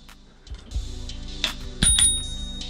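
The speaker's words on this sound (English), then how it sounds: "Wow, check it out, little bell." A small handlebar bell on a Playshion CW1 folding electric scooter rings out in a few sharp metallic dings, close and clear, with faint handling clicks and knocks in between and no talking.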